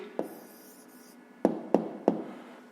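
A pen writes an answer on paper for a fifth-grade math exercise, giving a few quiet, sharp taps and light scratches spaced apart over faint background hiss.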